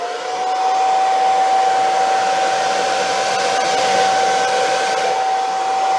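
A hair dryer blows steadily and loudly across a canvas to spread poured acrylic paint, its constant whooshing roar carrying a thin motor whine, with no talk.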